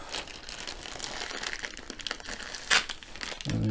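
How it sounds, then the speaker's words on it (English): A plastic bag is pulled off a diamond art canvas with close, continuous crinkling and rustling, ending in a sharper crackle. "And the canvas is in a plastic bag"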